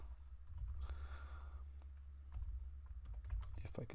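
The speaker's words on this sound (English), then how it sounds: "If I can type correctly here," Fingers type steadily on a computer keyboard while coding, giving a close, fairly quiet string of irregular key clicks and taps over a low background hum.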